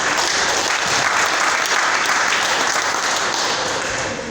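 A church congregation at a wedding ceremony applauds steadily, a dense, sustained clapping that holds at full strength for the whole stretch, with no talk over it.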